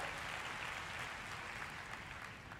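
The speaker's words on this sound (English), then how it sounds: "Come on, give the Lord a big hand." A church congregation applauds, a steady wash of clapping that fades slightly toward the end, fairly quiet and distant.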